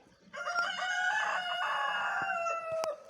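A rooster gives one full crow, a loud, near, harmonic call lasting most of the stretch, with faint farmyard clucks behind it and no talk.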